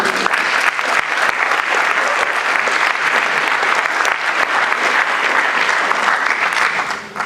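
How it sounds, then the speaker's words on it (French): Sustained audience applause for Philippe Roch at an opening evening event in Geneva, a dense steady clapping wash lasting throughout and tapering slightly at the end. "Je vous remercie de l'applaudir."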